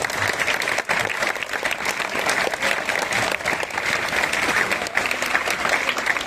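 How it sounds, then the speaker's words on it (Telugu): An audience applauds loudly at the closing ceremony of a junior langadi club tournament in Telangana, with dense, continuous clapping that holds steady from start to end. "సో సార్ కోసం గట్టిగా చప్పట్లు కొడతాం ప్లీజ్"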